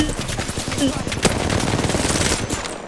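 Rapid gunfire in the Apex Legends game, with dense bursts of automatic shots and one sharper crack, loud and close, while excited voices talk over it.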